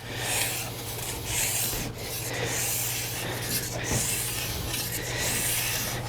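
A file or stone worked in short, steady strokes along the base edge bevel of a ski, making a continuous dry rasping rub that stays close and even throughout.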